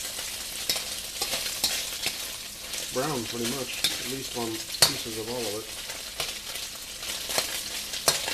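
Tofu pieces sizzle and fry in a pan for General Tso's tofu, a steady close crackle with occasional stirring clinks while a person talks briefly in the middle.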